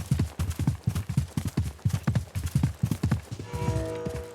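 Camel footsteps in a video game, a steady, evenly paced run of soft but loud thudding hoofbeats close up, about two dozen falls in quick rhythm, ending with a brief sustained tone as the steps stop.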